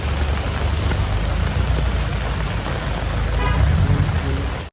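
Steady rain falls outdoors, giving a dense, continuous hiss with a low rumble underneath that could be passing traffic, constant and fairly loud throughout without any clear voices.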